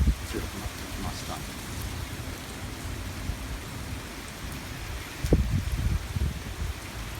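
Heavy Typhoon Hagibis rain pours down in Akasaka, Minato, Tokyo, a dense, steady hiss of drops on surfaces, broken near the end by a brief low rumble.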